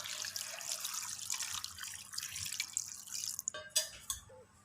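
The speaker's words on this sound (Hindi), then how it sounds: "साथ इसमें तकरीबन मैं 1 लीटर पानी डालने लगा हूँ।" About a litre of water poured into a beef karahi, a steady splashing pour of liquid that ends in a few clinks and drips, close and moderately loud, with no talk.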